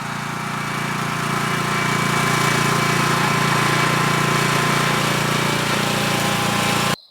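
Small riding lawn mower with its cutting deck removed, climbing a hill on a farm, its engine a loud, steady, rough drone running close by for several seconds before cutting off abruptly.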